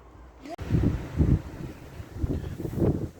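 Wind gusting in low, rumbling bursts across an outdoor microphone on an allotment, rising and falling several times, fairly loud and close.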